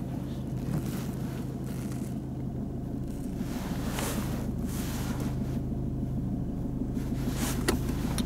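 A car pulls away during a driving lesson, its engine a low, steady rumble inside the cabin with wind noise and road roar building slightly, and no talk heard.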